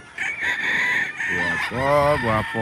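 Roosters and chickens at a farm in Concepcion, Tarlac crow loudly and close, with overlapping cock-a-doodle-doo calls and some clucking over a short stretch.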